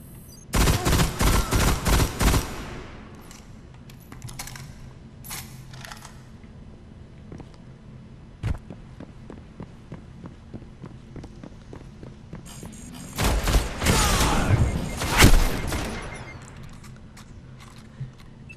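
Rifle fire in the Destiny shooter during Iron Banner, with bursts of scout and pulse rifle shots in loud clusters at the start and again near the end, separated by scattered single shots and quieter game ambience.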